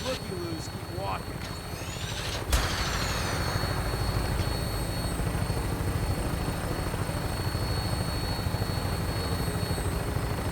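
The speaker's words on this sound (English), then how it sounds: "Tinker's gonna keep the vertibird spooled for an immediate takeoff" Loud, steady rotor-like aircraft drone of a vertibird, the VTOL gunship from the game Fallout 4, running continuously throughout, with a sharp mechanical clank early on and voices talking over it.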